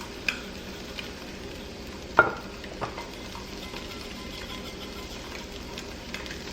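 Oatmeal being stirred and blended in a hot pan, a quiet steady sizzle with a few sharp spoon taps and scrapes against the pan scattered through; no talk.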